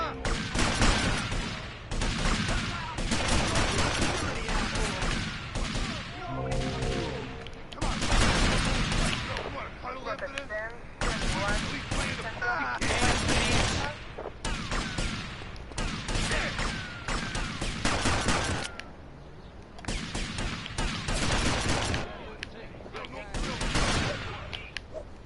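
Repeated bursts of automatic gunfire in the video game GTA Vice City Definitive Edition, loud dense volleys separated by short pauses over about twenty-five seconds, with occasional voices talking between and under the shots.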